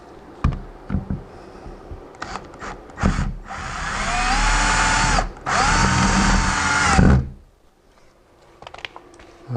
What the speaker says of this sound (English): start putting these screws in